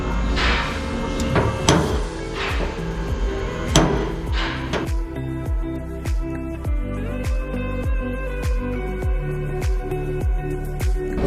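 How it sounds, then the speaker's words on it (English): Close, ringing hammer blows hammering out a dent in VW Bus metal: a few heavy strikes at first, then a steady run of evenly spaced taps. "we're gonna try and hammer out this dent"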